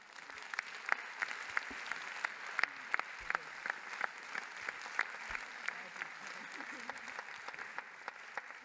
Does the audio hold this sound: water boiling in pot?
no